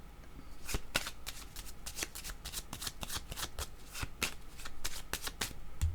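Playing cards are shuffled over and over in quick, crisp riffling bursts, fairly quiet and close, with no talking.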